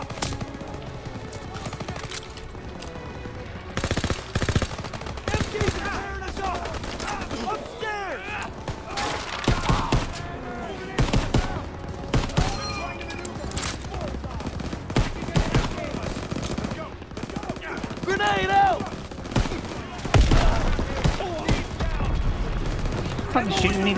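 Machine guns rattle in a Call of Duty WWII battle, bursts of rapid automatic fire and scattered single shots crackling over a long stretch, with shouting voices mixed into the din.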